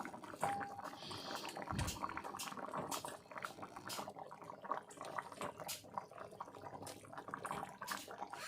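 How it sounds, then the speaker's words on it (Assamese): Fried rohu fish pieces go into a boiling curry, with continuous bubbling and liquid sloshing up close and a few soft knocks, and no talking. "এতিয়া মই ভাজি ৰখা মাছখিনি দি দিম।"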